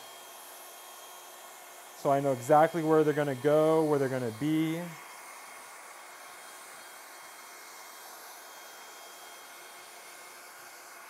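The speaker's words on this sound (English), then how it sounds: "And I like to cut with the blow dryer on," A blow dryer on its cool setting runs during a razor haircut, giving a steady, close airy hiss throughout while a person talks over it for a few seconds.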